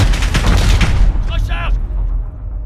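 Rapid gunfire bursts in a night team-deathmatch round of Call of Duty Modern Warfare beta on Hackney Yard, loud and dense for about a second, then a brief voice before a quieter rumbling tail.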